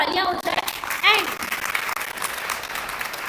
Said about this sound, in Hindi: एक बार फिर से जोरदार तालियां हो जाए।